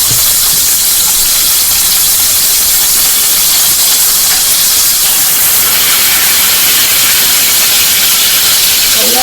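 Sausage searing in a hot pan to build a crust on all sides, giving a steady, dense hiss of sizzle that runs unbroken and fairly loud throughout, with no talking.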